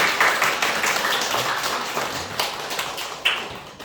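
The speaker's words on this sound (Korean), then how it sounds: "우리 교회 역사상 이렇게 큰 박수 받아본 역사가 없어요" A church congregation applauds indoors, a dense patter of many hands clapping continuously, loud at first and tapering slightly, with a few sharper claps near the end.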